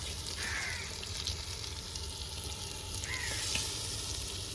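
Marinated chicken for biryani sizzles in a hot pot, a steady broad hiss of frying that holds throughout at moderate loudness, with a few faint scraping stirs and no speech.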